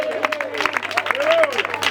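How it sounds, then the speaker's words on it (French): Brief applause at a wedding blessing, a scattered patter of claps from the congregation under a raised voice and sung or cheering tones. "Et donnez une main d'acclamation à notre Dieu."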